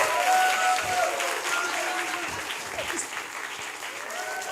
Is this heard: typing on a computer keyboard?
no